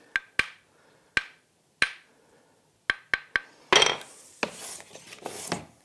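A hand plane taking fine finishing shavings from wood on a wobbly bench gives several crisp separate strokes with short gaps, then a denser burst of rasping passes, close and fairly loud with no talk.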